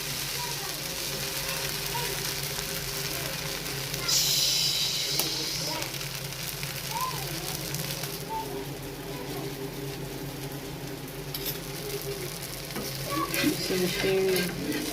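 Dosa batter frying on a hot pan in a home kitchen gives a steady, fairly close sizzle and hiss throughout, with brief stirring and scraping touches and a person's voice heard faintly in the background.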